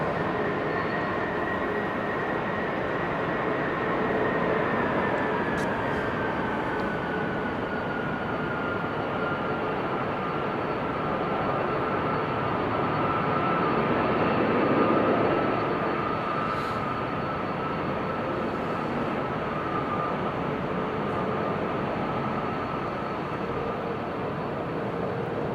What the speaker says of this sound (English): Let's pick up the sound of the Delta A330 that just took a turn and is now taxiing away